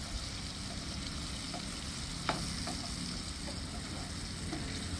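Cucumber curry with chilli powder is stirred in a pan, with a soft, steady sizzle, occasional scrapes and a light clink of the spoon, all close and fairly quiet.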